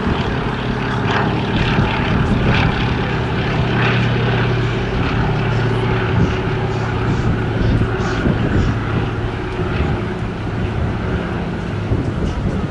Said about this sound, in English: A stunning and venerable swordfish.